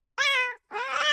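Professor Von Yip's cat from the Legends of Runeterra game gives two clear, close meows in quick succession, each short and tonal, alone with no talk.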